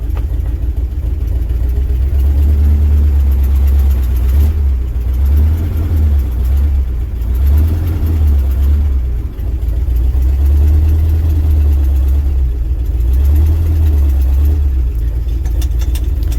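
A 1967 International 1200 truck engine runs close by, a loud, deep, steady idle with a gentle rhythmic pulse and slight swells in revs, and no voices.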